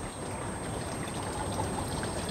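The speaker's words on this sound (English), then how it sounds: "open up the pipes so it can have water coming out" Water flows steadily out of the siphon tube of an aquaponics growbed, a close, continuous trickling pour with an even, unbroken rush throughout.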